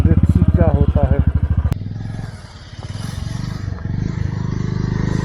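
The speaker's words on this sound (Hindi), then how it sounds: "तो एक बाइकर कोशिश कर रहा है जाने की" A motorcycle engine revs and putters on a snow-covered high-mountain road in North Sikkim, near and loud, with pulsing throttle bursts that drop and then build again, and a person speaking over the start.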